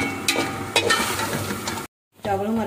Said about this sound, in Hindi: अब हम इसमें डालेंगे आलू और इसे भी करेंगे फ्राई